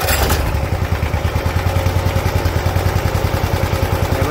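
A small engine with a retractable pull starter, choked on start: it catches after a short pull, then settles into a loud, steady, rapid chugging idle close by.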